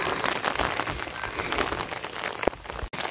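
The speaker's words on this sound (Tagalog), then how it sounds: "So, umuulan ngayon." Steady rain falls on a farm field in the rural Philippines, a dense continuous patter close by with no voices, broken by a brief sharp knock near the end.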